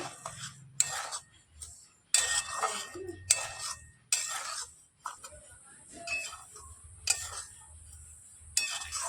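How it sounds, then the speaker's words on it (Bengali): Semolina stirred and dry-roasted in a pan, with scraping, clinking utensil strokes against the metal coming in irregular bursts and short pauses, fairly close, with no talking. "সুজিটা দিয়ে দিয়েছি এবার নাড়াচাড়া করে ভেজে নেব"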